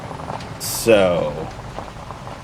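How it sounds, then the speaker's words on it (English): Rain falling on a farm during corn harvest, a steady soft patter under a voice and brief bursts of other noise. "Here comes the rain."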